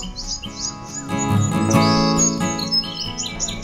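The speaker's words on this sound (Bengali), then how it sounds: "পাখির কিচিরমিচির শব্দের মাঝে" Birds chirp and tweet in quick bursts in the morning in a village in Paikgacha, Khulna, against a soft musical backdrop, the calls bright and fairly close, continuing steadily throughout.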